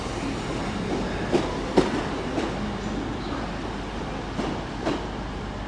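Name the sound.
Southwestern Railway train at Exeter St Davids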